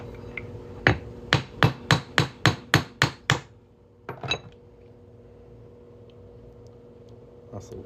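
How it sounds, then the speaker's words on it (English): About nine sharp, evenly spaced hammer blows on a metal punch driven into a Texas quarter, loud and close, then a pause and two or three lighter taps, with a faint background hum and no talk. "we're just gonna punch a hole in it"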